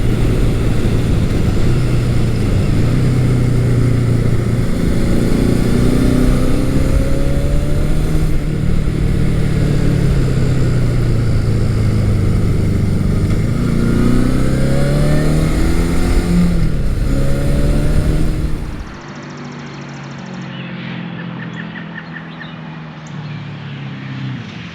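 A Honda CB750 K motorcycle runs along back roads, its engine droning loud and close with rising and falling revs and wind rush. The noise drops away abruptly near the end, leaving a quieter hum.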